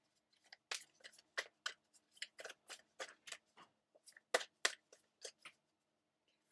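Crisp, close snapping and riffling clicks come in uneven bursts as a deck of oracle cards is shuffled by hand in a quiet room.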